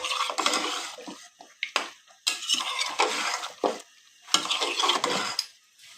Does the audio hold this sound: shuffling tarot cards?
no